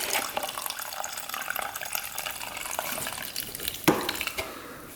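Fuel pours and splashes from a disconnected quad fuel line into a container, a steady close liquid trickle with small gurgles and one brief louder splash near the end.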